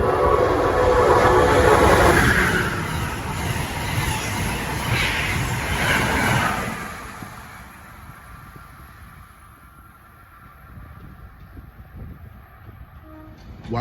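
An Amtrak Northeast Regional train passes through Princeton Junction station, a loud rushing roar of cars and wheels for several seconds that fades to a quieter rumble as it moves away.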